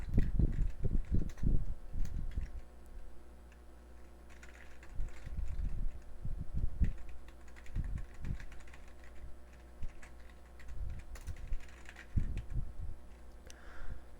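Someone typing a C program on a computer keyboard, bursts of quick close key clicks separated by short pauses, fairly quiet over a steady low hum.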